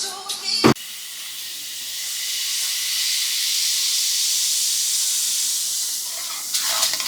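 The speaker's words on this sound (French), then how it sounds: "Ça c'est le mélange bicarbonate et vinaigre blanc. Vous entendez le bruit?" Baking soda and white vinegar fizzing, a loud, steady hiss that builds and holds for several seconds after a short clatter.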